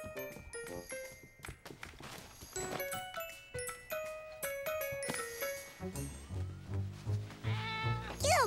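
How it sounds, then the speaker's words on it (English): A cartoon cat meows amid bright chiming music and cartoon sound effects in a snowy winter scene, the meows short and mid-loud, mixed under a busy score that swells toward the end. "Silly cat, get out of there!"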